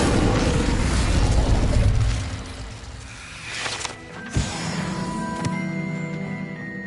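The Incendio fire spell in the video game Hogwarts Legacy erupts as a loud, roaring burst of flame that fades over a couple of seconds, followed by a sharp pop and clanking, ringing magical effects, with no talk.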